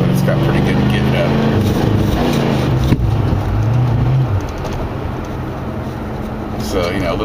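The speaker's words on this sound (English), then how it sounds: "as long as you're easy on the throttle, it runs great" A 1973 Lincoln Mark IV engine with a timing problem idles in a steady, loud running drone, while someone talks over it almost throughout.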